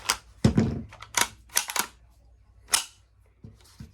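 An HK 22 pistol being cleared: a series of sharp, close mechanical clacks and snaps from slide and magazine handling, irregularly spaced with a couple of louder metallic hits, no talk.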